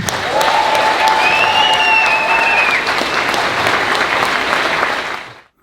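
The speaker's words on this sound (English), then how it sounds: "did you notice how the crowd cheered" A large outdoor political rally crowd breaks into loud, sustained applause and cheering with whistles, holding steady for about five seconds before fading out abruptly.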